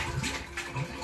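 Water running from a tap to fill a container in a home, a steady low splashing rush with no voices.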